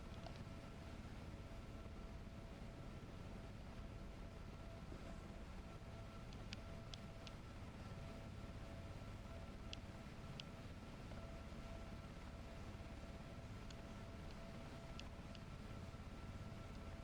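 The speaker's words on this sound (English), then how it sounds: "It's quite windy today." Steady wind rushes continuously at low level, a constant broad hiss and rumble with faint ticks scattered through it and no talk.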